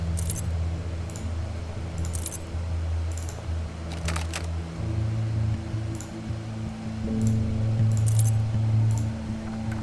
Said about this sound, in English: Ah, the keys.